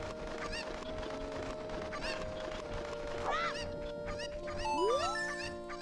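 Cucco chickens in Zelda Ocarina of Time squawk and honk in a game scene, several rising cackling calls over a steady electronic hum and music, faint and distant overall.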